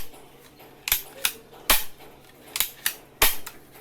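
A toy cap pistol fires in sharp, loud snapping cracks, four main shots spaced about a second apart, each trailed by a fainter click as the mechanism is turned and advanced, with no talking.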